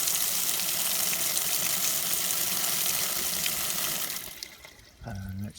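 Water gushes steadily from an outdoor tap as a broadband rushing wash, then cuts off abruptly near the end, leaving a short low hum.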